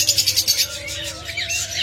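A flock of diamond doves kept for breeding coos in quick, soft repeated pulses close by, with faint chirps mixed in.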